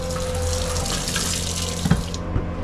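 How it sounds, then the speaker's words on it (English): Steady rush of water running from a tap, fed by water pumps on an off-grid lighthouse island in Norway, continuous and close with a faint hum underneath and a few small knocks. "We got running water"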